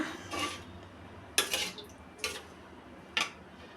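Fried fish and potato chunks tossed in a pan with mustard oil, giving three or four separate clinks and scrapes of a utensil against metal over a low background hiss, fairly close and with no talking.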